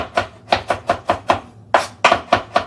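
A knife chops ingredients for steamed pork ribs with black beans on a board, striking about a dozen loud, close, rhythmic blows with a brief pause midway.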